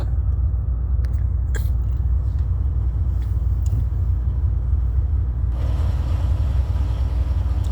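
Machinery in a ship's engine room on engine watch runs as a loud, steady low rumble that fills the space, with sharp metallic clicks and a brighter hiss toward the end, and no talking.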